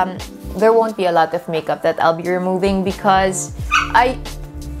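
A dog whines and yips at a door while trying to get into the room, its high cries overlapping a woman's steady close speech throughout.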